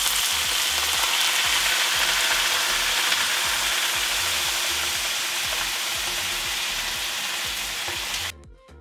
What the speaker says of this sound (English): Take your boiling water, pour it into the cast iron skillet.